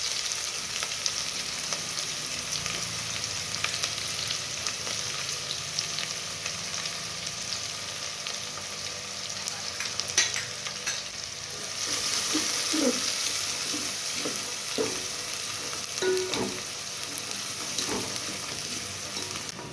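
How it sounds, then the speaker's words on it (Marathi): Chopped onion fries in hot oil with mustard seeds and cumin, a dense continuous sizzle with scattered crackles and a few scraping stirs, close and loud with no talking. "मोहरी तडतडली की जिरा त्यानंतर आपण हा चॉप केलेला कांदा याच्यामध्ये टाकायचा"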